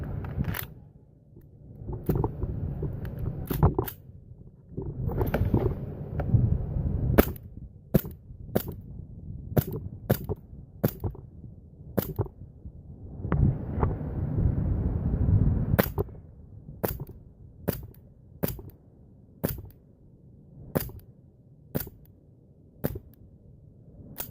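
An airsoft Colt 1911 gas blowback pistol fires a long series of sharp, snappy pops, single shots spaced irregularly, some quick pairs, over low background rumble and handling noise, near and loud.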